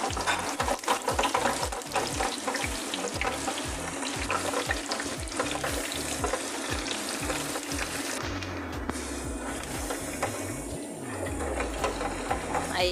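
Potatoes frying in a pan with onion added, a steady loud sizzle with rhythmic stirring scrapes running through, the crackle shifting as new ingredients go in.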